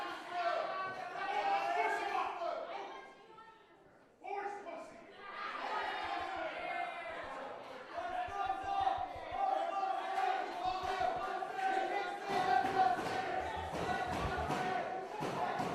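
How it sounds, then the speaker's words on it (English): A wrestling crowd at an academy show roars, shouts and chants in sustained waves, dipping briefly before surging back louder, with commentary voices mixed in and scattered thuds near the end. "You hear our crowd, what they're saying."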